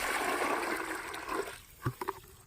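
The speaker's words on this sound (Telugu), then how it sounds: "వాటర్ పోసేసుకొని" Water poured out to mix weedicide for spraying a super Napier field, a close gushing pour for over a second that then stops, followed by a few small clinks and drips.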